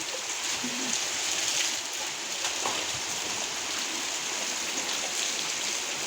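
Heavy rain falls outdoors as a steady, dense hiss of drops hitting surfaces, unbroken and fairly loud for the whole stretch.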